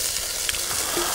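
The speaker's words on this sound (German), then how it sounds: "Im Step 1 werden wir uns unseren Bacon hier erst einmal schön auslassen, dass wir da ein bisschen Fett bekommen" Bacon renders its fat in a Dutch oven over a burner, giving a close, continuous hiss of sizzling grease for a moment with no talking.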